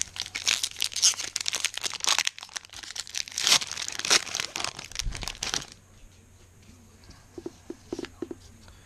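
The foil wrapper of a Magic: The Gathering Amonkhet booster pack crinkles and tears close up in irregular bursts, then settles into quieter handling with a few soft taps.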